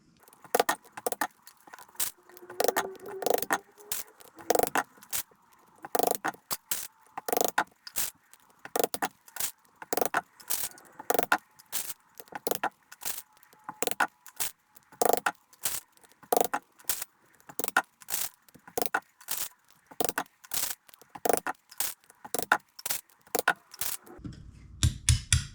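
Rivets are set by hand with a pull-type riveter, and each mandrel snaps off in a long series of sharp, distinct clicks and clacks, spaced unevenly, close and fairly loud, with quiet gaps between them.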